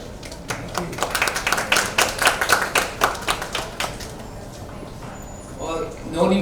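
Audience applauding at a book launch event, a run of sharp claps over a murmuring crowd that gradually thins and fades, ending with a brief swell of noise.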